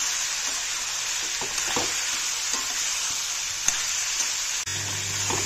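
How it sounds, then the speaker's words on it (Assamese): Vegetables fry with spices in a pan, a steady close sizzle broken by several scraping stirs and one sharp clack near the end, with no voices. "মছলাখিনিৰ লগত অলপ সময় ভাজি লওঁ, চব্জিখিনিৰ লগত অলপ সময় ভাজি লওঁ"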